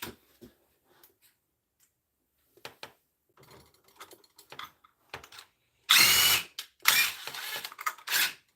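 A power drill drives a screw into a new workbench in a woodshop, heard as a few short loud bursts of whirring in the latter half, separated by quieter handling clicks and taps.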